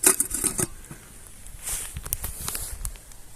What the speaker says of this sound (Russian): И пошел небольшой дождь